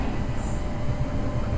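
A Tama Monorail train runs at night with a steady low rumble and hiss heard from inside the car, continuous and fairly loud with no announcements during this stretch.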